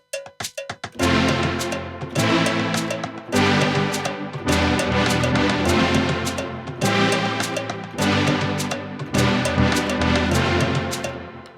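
A loud dancehall beat plays with a shuffled groove, a bright cowbell-like hit and a repeating chord progression cycling in even bars, with no voice over it.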